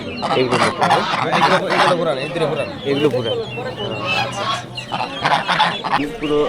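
Loud honking and quacking from several ducks, including white Chinese ducks, mixed with busy chatter at Baghaitala Bazaar, a hill market in Haluaghat, with people talking close by throughout.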